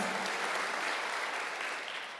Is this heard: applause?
yes